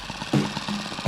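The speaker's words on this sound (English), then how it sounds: "YS53 4-stroke. That's how slow I have to have it idle in order to land." A YS53 four-stroke glow engine on a Sig Kadet Senior model airplane idles very slowly for landing, a low, loose chugging pulse with a couple of louder bursts, heard near and steady over a short stretch.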